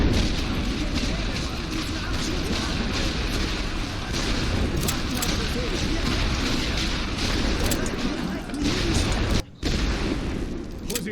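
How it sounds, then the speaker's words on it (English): Artillery bombardment in the World War I game The Great War: Western Front, set in 1914. Booms and blasts rumble one after another in a dense, steady barrage, with a short drop in the noise near the end. "Keeping up the constant bombardment, we should be alright."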